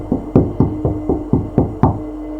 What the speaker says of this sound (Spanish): Tocamos varias veces para que su hermano abriera la puerta.